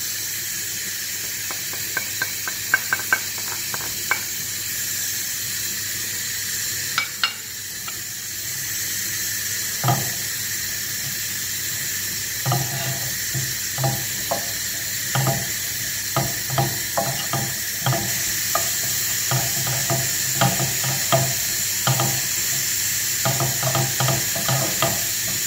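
Herbs and greens for a Moroccan chard-and-bean dish sizzle steadily in about a quarter glass of oil, with a continuous close hiss and scattered clicks and scrapes as they are stirred, and no talking.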